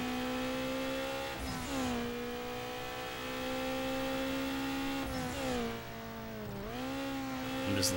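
A tuned street car in Need for Speed Underground drones at a steady high pitch during a race, the engine note sweeping down and back up with shifts and lifts off the throttle, close and continuous.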